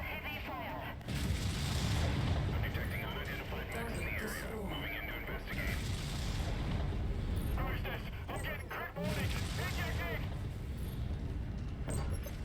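Aerospace fighter airstrike in a mech combat video game, with heavy booming explosions and battle noise that stay loud throughout, under talk.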